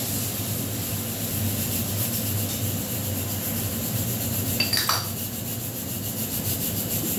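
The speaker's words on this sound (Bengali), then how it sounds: "জিরেটা একটু কষে নেবো।" Cumin seeds frying and being stirred in hot oil in a pan, a steady crackling hiss with a short scraping stir near the end, alone without talk.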